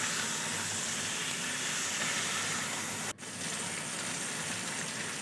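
Mango pieces, ripe but very sour, stir-fried in a pan for a mango chicken dish: a steady, broad sizzling hiss runs throughout, close and even, broken by one brief dip partway through.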